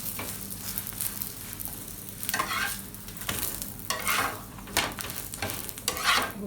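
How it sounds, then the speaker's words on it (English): Layered lachha paratha frying in a little oil over low to medium heat, a close, continuous sizzle with periodic scraping and pressing strokes of a spatula against the pan. "Need to fry a little bit more."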